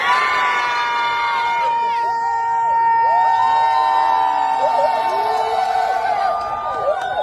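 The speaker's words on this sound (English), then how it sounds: "And the people said, and the people shouted," A wedding congregation at an African white wedding ceremony cheers, shouts and whoops loudly and continuously, a dense, excited crowd roar with high shrill voices rising throughout.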